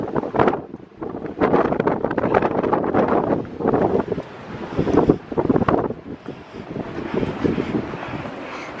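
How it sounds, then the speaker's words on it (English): Strong wind gusts from a hurricane-force blizzard that is whipping up a snow tornado in Regina, Saskatchewan, roaring and buffeting the microphone loudly and continuously, surging in waves throughout with no speech. "Nice gust."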